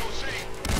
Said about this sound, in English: I'm just walking up and down the hallway to shoot with my shotgun